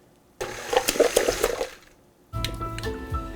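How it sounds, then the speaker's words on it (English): Water poured gradually into pizza dough in a stand mixer, bursts of splashing and sloshing against the bowl with a short pause between pours, close and fairly loud. "Gradually adding in the water"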